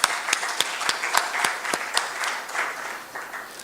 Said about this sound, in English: Let us welcome these new charter holders with a big round of applause.